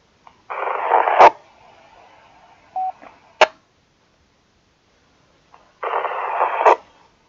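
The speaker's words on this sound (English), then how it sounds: "Someone keying up there. Very bad, or you know, like white noise." A ham radio channel is keyed up with no voice, giving two bursts of hissing white noise each about a second long that end in sharp clicks. A short beep and another click fall in the quiet gap between them.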